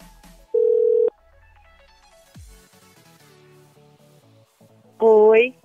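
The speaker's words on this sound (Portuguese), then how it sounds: "vamos clicar aqui para ligar, para iniciar a chamada" A call being placed on a mobile phone to the Oi Fibra line: a short steady tone, a stretch of faint low sounds, then a loud ringing tone near the end, with no talking over it.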